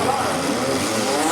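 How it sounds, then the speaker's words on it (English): Demolition derby car at a county field days event spinning its front tires while pushing against another car, a loud, continuous roaring engine with grinding tire noise filling the whole brief moment. "Mativer trying to push him backwards, spinning those front tires"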